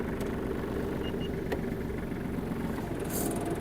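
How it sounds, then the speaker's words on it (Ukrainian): Kubota KL-25 mini tractor diesel engine idling close by after starting, a steady dense rumble with faint clicks on top. "Заводиться, звісно ж, трактор дуже добре."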